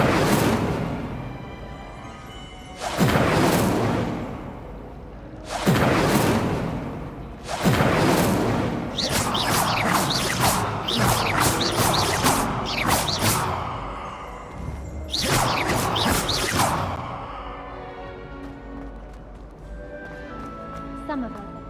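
Spell effects in the Hogwarts Legacy video game ring out as a series of loud whooshing bursts and booming impacts, roughly every two to three seconds, with a voice calling out spell names over them.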